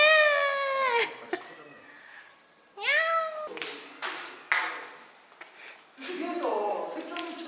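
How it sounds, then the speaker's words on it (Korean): Cats fighting outdoors, with loud drawn-out yowls and meows in several bursts separated by short pauses, plus a few sharp scuffling taps, fairly close and clear. "어디서 고양이 싸우는데"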